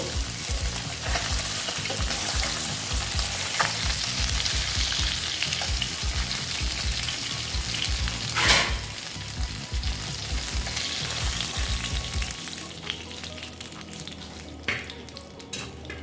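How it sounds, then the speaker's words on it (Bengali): Pabda fish fry in oil in a pan with a loud, continuous sizzle and crackle close up, with occasional stirring and one sharp pop near the middle. "বন্ধুরা আমার মাছটা প্রায় ভাজা হয়ে গেছে"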